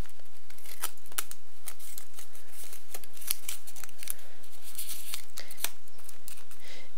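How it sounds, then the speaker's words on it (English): Sticky tape pulled and torn in short crackling strips for taping a small model jet from the underside, sharp close rips spaced irregularly across several seconds, without speech. "I'm going to actually tape this from the underside."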